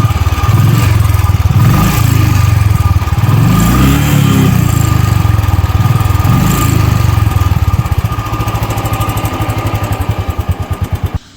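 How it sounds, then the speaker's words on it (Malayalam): A Royal Enfield motorcycle engine idles with a steady, loud, close thump and is given a few throttle blips before the note fades and cuts off, with no talking. "ആക്സിലേറ്റർ ഒന്ന് കൊടുക്കാം."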